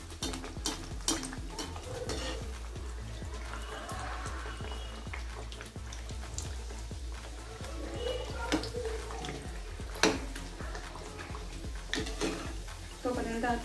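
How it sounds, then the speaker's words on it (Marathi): Banana vadas deep-frying in oil over a medium gas flame, a steady low bubbling hiss under repeated close clinks and stirring scrapes of a utensil, with some talking. "मीडियम गॅसवरती मी तळून घेते"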